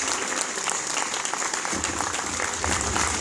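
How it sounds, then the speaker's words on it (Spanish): Crowd applause for a third-place winner at a Star Wars fan convention in Argentina, a continuous wash of clapping with a low rumbling murmur joining in partway through. "Un fuerte aplauso, tercer puesto."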